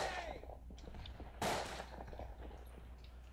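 A grenade explodes in the World War I shooter Verdun with one sharp, fairly close bang midway through, amid scattered distant gunfire and battle noise, with voices faintly present.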